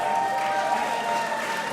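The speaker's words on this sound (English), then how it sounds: "Luke, let's get a round of applause for all of the ones up here and all the ones down there." A press conference crowd gives a short burst of applause, a steady wash of clapping from many hands for under two seconds.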